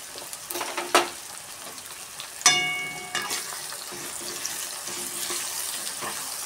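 Tomatoes with asafoetida and turmeric go into a hot pan for a vegetable dish, setting off a loud hiss and sizzle that keeps crackling under clinks of a spoon against the pan.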